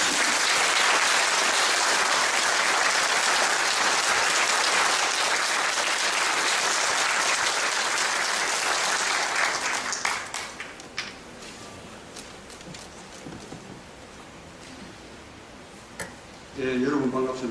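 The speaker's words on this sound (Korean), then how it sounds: "큰 박수로 맞아주십시오." Sustained audience applause at a national professors' rally fills the first ten seconds, then thins into scattered claps and isolated taps before a short final burst.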